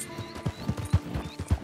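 Horse hooves clip-clop in an unhurried, uneven rhythm within Red Dead Redemption 2, about eight soft thuds close by over a faint ambient bed, with no talking.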